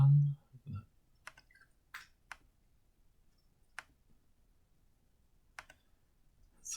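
A laptop trackpad clicks sharply a handful of times at uneven intervals while trading charts are marked up, close and isolated against near silence, after a brief low sound at the start.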